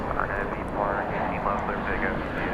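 Steady jet engine roar from an airplane approaching the takeoff line on runway 18 Left at Dallas Fort Worth International Airport, heard at night at moderate distance beneath continuous talking.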